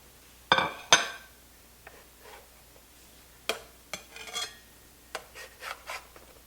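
Shortbread cookies lifted off a metal baking pan, with a few sharp clinks and scrapes followed by softer, scattered rubbing and tapping, close and quiet with no talking.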